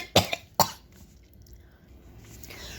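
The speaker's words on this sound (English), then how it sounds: "Sorry, I didn't feel that cough till it was too late." Two sharp, close coughs in quick succession, the first with a short trailing hack, followed by quiet room tone.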